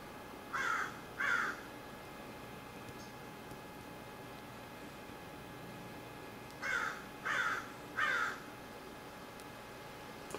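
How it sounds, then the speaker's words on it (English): A crow calling outdoors, two caws followed after a pause by three more, each harsh and fairly distant over a faint steady hum, with no talking. "I got a crow outside cooing."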